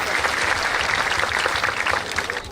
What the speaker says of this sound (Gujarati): એમને જોરદાર તાળીઓના ગડગડાટથી બતાવો